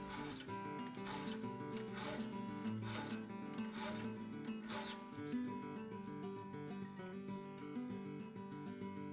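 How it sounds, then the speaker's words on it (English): Coarse file worked in long strokes across a metal knife guard, a steady rasping scrape repeating in even passes, close and fairly loud with no talking. "We're going to start off using a rather aggressive file, making some long strokes with it, and that'll remove the meat of the material."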